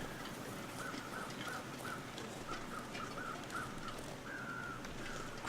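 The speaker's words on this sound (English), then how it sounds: "Crows are flying down there." Crows caw in a snowy wilderness in The Long Dark, a series of short repeated calls spaced through the stretch with a longer caw near the end, set against a steady windy background hiss.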